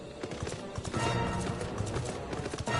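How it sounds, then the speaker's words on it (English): Hooves of Sleipnir, Odin's eight-legged horse mount in Final Fantasy XIV, clip-clop in a steady galloping rhythm, close and fairly loud, with a brief whinny-like tone partway through and no talking. "Let's ride on Slipnir."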